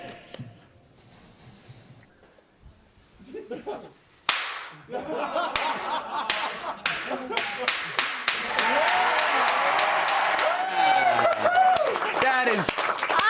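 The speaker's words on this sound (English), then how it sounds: "Ron Paul slow clap is the greatest slow clap you can have" An audience slow clap that starts with a few sharp, spaced claps and builds into faster, fuller clapping from a crowd, with voices and cheering rising underneath.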